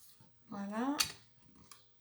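Scissors snip small bits off a craft storage box, one sharp close cut followed by a lighter second snip, with a voice talking just before the first cut.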